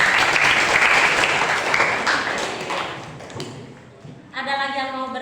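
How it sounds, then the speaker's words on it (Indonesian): Classroom applause for a student during a lesson: a dense burst of clapping that gradually thins and fades over several seconds, followed by a voice speaking at the end. "Tepuk tangan dulu buat si Awel."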